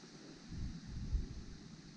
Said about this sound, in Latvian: Pagaidām te vējels tāds maktens ir.